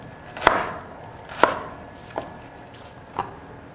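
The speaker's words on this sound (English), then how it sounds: "I'm just gonna do kind of a rough dice of this onion" A knife roughly dicing an onion on a cutting board in a home kitchen, four separate sharp chops spaced about a second apart, the last two softer, over quiet room tone with no talking.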